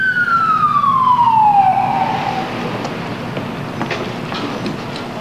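A police car siren during the 1992 Los Angeles riots, a loud wail sweeping downward and fading into a steady rumble of traffic and street noise.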